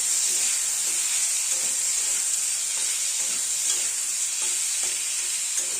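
A potato and pointed gourd curry being sautéed in a pan, with a dense, even hiss of frying and soft scraping from stirring, close and steady throughout.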